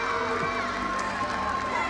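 Arena crowd at a college gymnastics meet between Denver and Arizona State cheers while the team chants for a perfect score, a steady roar of voices with a commentator talking over it.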